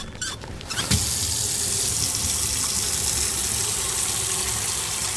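Water pours steadily into a container at room temperature during a lung float test in the game Autopsy Simulator, a constant close gushing rush that starts after a brief clatter and keeps going without pause.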